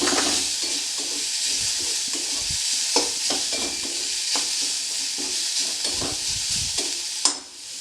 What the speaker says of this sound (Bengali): আমি এর মধ্যে দিয়ে দেব গ্রেট করে রাখা গাজর।